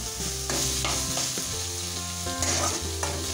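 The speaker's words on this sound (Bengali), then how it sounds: "নেড়ে নেবো, মাংসটা ভেজে নেবো" Minced meat momo filling frying with ginger and garlic, a loud continuous sizzle broken by scraping stirs and a few clanks of the spoon against the pan.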